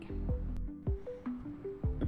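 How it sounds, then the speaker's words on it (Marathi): Besan flour dough being rubbed with oil by hand gives soft, wet squishing at close range, several squelchy presses spaced about every half second over a faint tonal background. "हे तेल आपल्याला पिठाला चांगलं चोळून घ्यायचं आहे"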